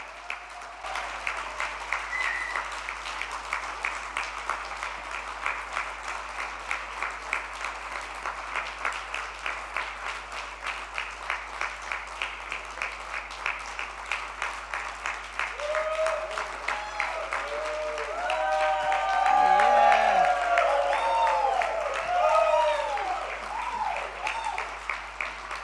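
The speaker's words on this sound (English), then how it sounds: "Let's invite him with a thunderous and a joyful applause, Miltonian Chaitanya" Sustained applause from an audience at a school event fills the hall, dense and steady throughout, with cheering and raised voices swelling toward the end.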